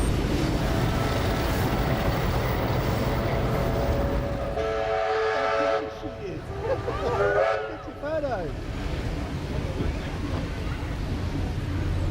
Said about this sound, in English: 44211 and 4306 are now pulling their way into Kiama Station.